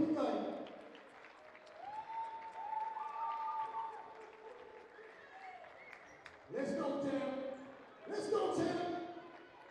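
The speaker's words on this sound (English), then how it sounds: "Keep the round of applause going" Audience applause at a school basketball awards ceremony, faint at first beneath voices, then swelling in two louder bursts of clapping near the end.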